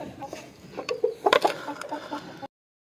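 A hen clucks several times nearby, short throaty calls rising to a brief flurry before cutting off.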